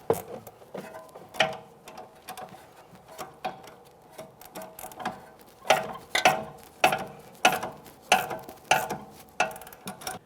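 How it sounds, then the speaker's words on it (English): A ratchet wrench tightens the 18mm mounting nut on a front sway bar link of a 2017-2024 GMC Acadia, a close run of sharp clicking bursts that comes sparse at first, then quickens into a steady rhythmic series with no talk. "then we'll tighten the 18mm mounting nut"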